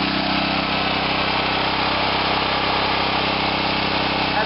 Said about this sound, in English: One of those Subaru Robin engines.